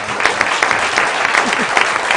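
A short round of applause breaks out at a city council meeting, a room of people clapping steadily and fairly close for about two seconds.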